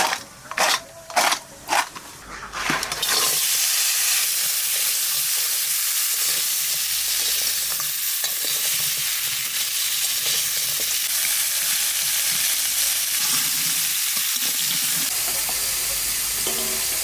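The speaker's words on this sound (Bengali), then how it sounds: "লবণ হলুদ মাখাইয়ে কাঁকড়া মাছটা আগে একটু ভাজিয়ে নেব" Crab coated in salt and turmeric sizzles loudly and steadily in a hot pan, a dense continuous frying hiss that follows a few brief clatters at the start and runs on alone for many seconds.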